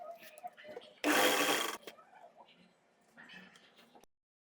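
Sewing machine stitching a child's party-wear lehenga, one short loud burst of running stitches lasting under a second, with quieter handling noises before and after and someone talking around it.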